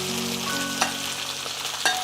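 Beef and onion stir-fried in a wok, with a steady sizzle running throughout and two brief, sharp scraping clatters as the ingredients are tossed; nobody speaks.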